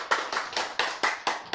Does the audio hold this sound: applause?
yes